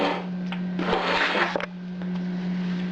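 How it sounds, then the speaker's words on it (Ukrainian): A blender whips a cheese mixture with eggs and orange zest, whirring steadily with a low motor hum, surging louder in a couple of bursts before settling back to a quieter buzz. "беру блендер і збиваю блендером."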